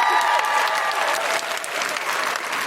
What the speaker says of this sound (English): Bigger applause for Jill.